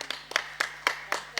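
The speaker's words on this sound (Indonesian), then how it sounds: "tepuk tangan untuk kita semua" A few people clap slowly and unevenly at an Indonesian parliament committee meeting, about five or six separate claps spaced out over a second and a half, close and fairly quiet in a room with a low steady hum.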